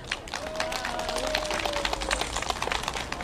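An outdoor audience in a park claps after a poetry recitation, steady close applause with a voice speaking over it.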